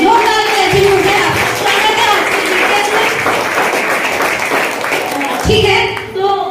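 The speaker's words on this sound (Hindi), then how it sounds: "तो आप लोगों के लिए जोरदार ताली हो गया" A seated audience at a Hindi-language success and planning seminar breaks into loud, sustained clapping that fills the room for several seconds, with a voice talking over it before it tapers off.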